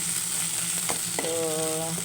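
A sauté base for mung bean soup with pork hock sizzles steadily in a pan, a constant bright frying hiss with a single clack of a utensil and a brief tonal whine rising over it.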